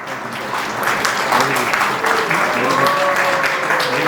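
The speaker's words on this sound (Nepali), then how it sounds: "जोरदार ताली शान्ता वास्तवका लागि" Loud, sustained applause from an audience at a debate competition as a guest is invited onto the stage, dense clapping steady from start to finish, with faint voices and a few whistle-like tones mixed in.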